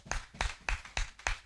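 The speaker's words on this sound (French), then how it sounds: "Clap for yourselves." A congregation at a Sunday sermon claps in five evenly spaced bursts, each a sharp, fairly loud cluster of hand claps with brief quiet gaps between, with no talking over it.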